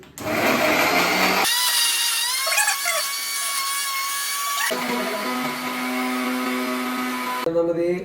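A mixer grinder whirs loudly as it blends chicken marinade, running in a few bursts with shifting whine and pitch, stopping briefly between runs, close and dominant.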